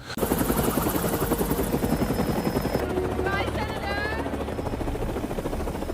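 Helicopter in a film scene heading into an accident: a loud, steady rotor thump with a dense engine roar throughout, shifting partway through as a higher mechanical whine rises over the continuous throb.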